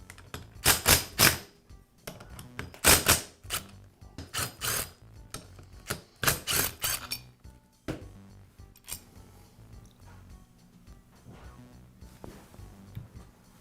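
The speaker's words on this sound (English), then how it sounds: "I'll go ahead and remove two of the screws first, and then slowly remove the other two" Screws come out of the pump body of a Karcher pressure washer in rapid clusters of dry clicking and ratcheting, followed by quieter scattered handling sounds.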